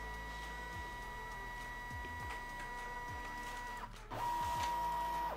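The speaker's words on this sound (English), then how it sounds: "the moment I hit scan, it was just scanning from the automatic document feeder" A Brother Inkvestment printer scanning pages from its automatic document feeder: a quiet, steady motor whir with faint sustained tones and soft periodic clicks, growing slightly louder toward the end.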